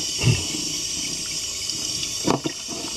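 Tap water runs steadily while jowl bacon is rinsed in a sink, a soft continuous hiss with a couple of brief splashes and clunks.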